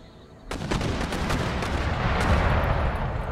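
Mortar and artillery fire in the Empire Total War battle game: a sudden loud blast onset followed by a sustained, dense roll of booming shots and rumbling impacts, with no talk over it.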